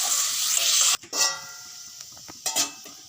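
Kachori filling with chilli powder cooking in a pan for mini khasta kachori: a steady sizzle with a couple of sharp stirring scrapes partway through.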